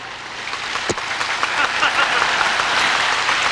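Audience applause at a Buddhist lecture, a dense, steady wash of clapping from a crowd that builds and holds throughout, with a sharp knock near the start.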